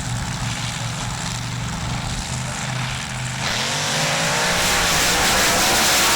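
Mud trucks racing at full throttle down a 200-foot Kansas dirt drag strip, a loud sustained engine roar that climbs sharply in pitch partway through as the trucks accelerate away.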